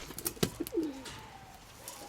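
Pigeons coo softly and close by while being fed corn, wheat and barley, with a few flutters and small taps before low, rolling coos.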